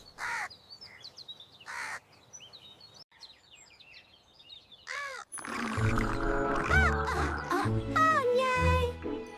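A cartoon crow in an animated children's story gives several sharp caws, spaced out at first, then mixed with busier musical and voice-like sounds in the second half.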